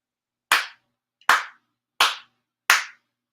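Four sharp, evenly spaced ritual hand claps at a Konko prayer service, each crisp and close with a short decay, ringing out alone in an otherwise silent room.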